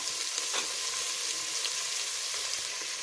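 Beans, carrot and capsicum sautéing in a pan, a soft, even sizzle with occasional light stirring scrapes, fairly quiet throughout.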